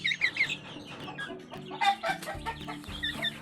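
An Indonesian black chicken clucks close by in a quick series of short, bright calls coming in irregular bursts, with no speech.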